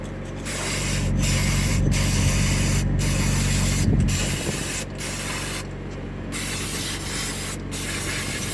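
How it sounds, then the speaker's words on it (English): Cleaner sprays in a loud continuous hiss into a diesel EGR valve, steady and close, broken by several brief pauses and restarts toward the end. "It's the EGR being cleaned out."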